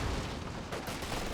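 Rifle grenades fire in a Company of Heroes 2 battle, a dull, muffled low boom rolling through dense background battle noise, brief and without speech.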